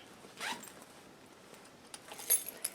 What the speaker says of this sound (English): Now we'll go into this zipper pocket.